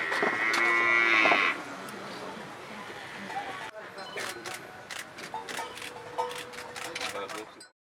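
Cattle at a village farmers' livestock group in East Nusa Tenggara moo during vaccination. One long, loud, near low-pitched call opens, then fainter lowing and clatter follow under people talking in the background.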